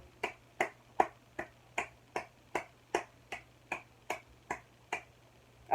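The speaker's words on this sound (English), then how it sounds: "That's enough clapping for now" Sharp single hand claps, about thirteen of them, fall in an even, slow rhythm, each crisp and close against a quiet room with a faint low hum and no talk.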